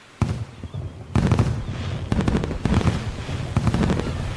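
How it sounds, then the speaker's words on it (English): Fireworks bursting over a beach festival in the farming game Story of Seasons: Friends of Mineral Town, with repeated crackling pops and booming bursts arriving in quick irregular volleys, loud and close, no voices. "went to the beach for the fireworks festival. I sat back and watched the fireworks fly."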